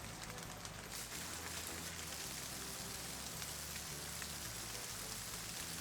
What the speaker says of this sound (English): So about 650 meters before you can start to hear it over the rain.